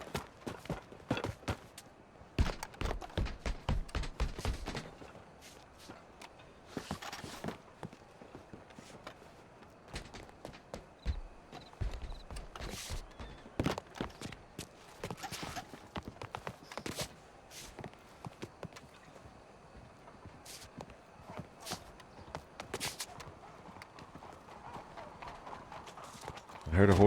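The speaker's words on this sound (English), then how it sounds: "I heard a horse nearby." Horse hooves clip-clop in a Western roleplay video game, irregular bursts of steps near and then farther off, with people talking over them.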